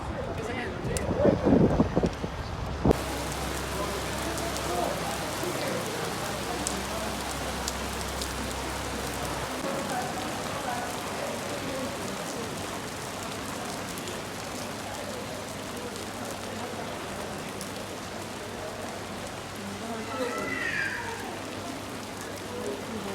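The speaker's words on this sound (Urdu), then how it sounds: "بارش ہو رہی ہے تیز" Heavy rain pouring down on a London street, a dense, steady hiss of drops on surfaces with some wind buffeting, a brief low rumble early on, and occasional background voices.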